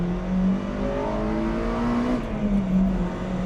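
A Honda Civic Type R engine revs hard under full acceleration, a loud, steady drone with harmonics rising in pitch across a few seconds, heard up close from inside the car.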